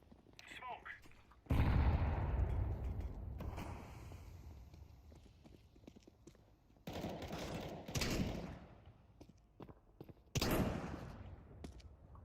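Negev machine gun fire in Counter-Strike 2 comes in several loud separated bursts, each lasting a second or two, between quieter game ambience and talking.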